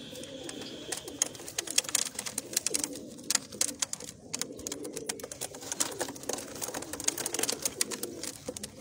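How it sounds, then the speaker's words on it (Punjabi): Large white breeder pigeons coo softly amid a dense stream of light clicks and rustles from the birds moving around the coop. "ਸਾਰੇ ਵੱਡੇ ਘੰਟੇ ਵਾਲੇ ਕਬੂਤਰ ਨੇ"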